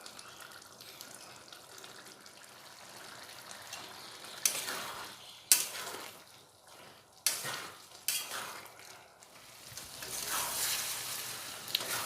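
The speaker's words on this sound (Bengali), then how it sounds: "ঘুগনিটা খুব ভালোভাবে কষানো হয়ে গেছে" A thick vegetarian ghugni of dried peas cooks with garam masala powder in a pan, with a quiet sizzle under repeated bursts of spoon scraping and stirring that rise and fall.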